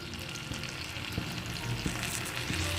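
Leaves fry in only mildly hot oil in a pan, a steady close sizzle throughout with a few soft knocks of the utensil.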